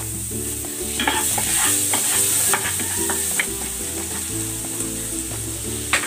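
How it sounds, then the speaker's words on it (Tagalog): Garlic sautéing in a pan for pork ribs, a loud steady sizzle with frequent stirring scrapes and clinks of the utensil against the pan. "Magigisa na ako ng bawang."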